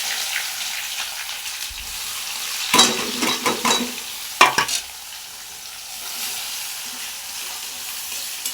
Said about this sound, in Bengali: তারপরে কড়াইতে দিয়ে দিচ্ছি পেঁয়াজ কুচনো।